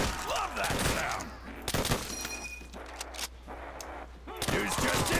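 Rapid gunfire on a baseball-field custom zombies map in Call of Duty: a loud, dense string of shots that pauses briefly and resumes, with a player's voice talking between bursts.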